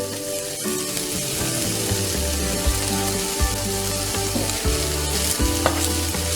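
Ground meat sizzles loudly in a hot pan with a splash of water and taco seasoning, steady frying crackle throughout with scraping stir strokes, close and continuous.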